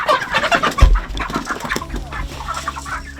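Chickens on a Jamaican yard farm cluck and squawk close by in a busy, overlapping jumble, with a low thump and faint background noise.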